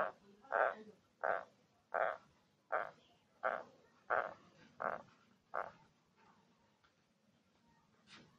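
A very large toad gives a series of about nine short, evenly spaced croaks, each a distinct throaty pulse, close and fairly clear against quiet surroundings, before falling silent.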